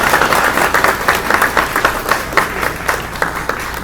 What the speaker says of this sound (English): You can clap if you'd like